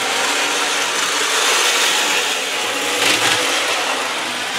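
A steady, loud whirring motor hum that keeps going without a break, from an N gauge model train engine running close by.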